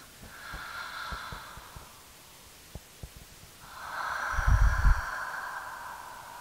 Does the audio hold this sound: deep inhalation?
yes